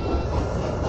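Simulated CTA Pink Line train from a Roblox game, a steady rumbling rail roll with faint wheel noise, close and continuous, no voices.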